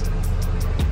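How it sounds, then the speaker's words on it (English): A Bentley car engine idling just after being started, a brief steady low rumble close by with no voices. "he started the Bentley"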